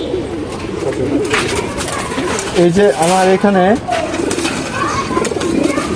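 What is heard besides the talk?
pigeons cooing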